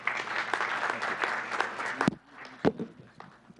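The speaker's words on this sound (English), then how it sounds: "please welcome Nick with a nice big round of applause" Applause from a council chamber audience welcoming an attorney candidate, a steady dense patter of hands for about two seconds that cuts off abruptly, followed by scattered shuffling, a sharp thump and quiet room noise.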